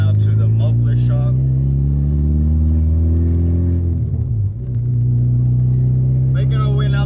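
A Toyota Matrix fitted with new headers drives in second gear, its loud, deep engine rumble droning close and steady with a brief dip and recovery. A person talks over it now and then.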